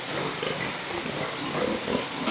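Sows and piglets grunting and squealing together on a crowded pig farm, a dense, steady chorus of overlapping oinks filling the pens without pause.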